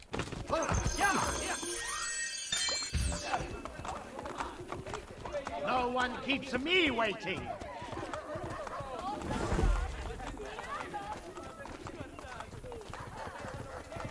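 Horse hooves clip-clopping in the video game Assassin's Creed Brotherhood, a steady galloping rhythm with a whinny, heard under in-game character dialogue and a player talking.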